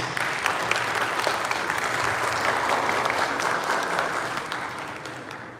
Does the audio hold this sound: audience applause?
yes